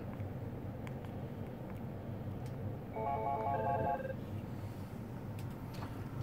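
A Spectralink 8440 wireless desk phone rings on an incoming call in a quiet office, a brief faint electronic trill pattern lasting about a second over steady background hum.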